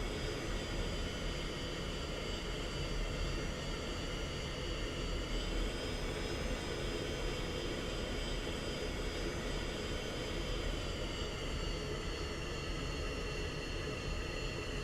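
An F-16 jet taxis toward the runway in a flight simulator game, its engine giving a steady, fairly faint drone that continues unbroken throughout with no voices.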